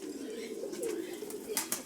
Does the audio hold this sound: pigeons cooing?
yes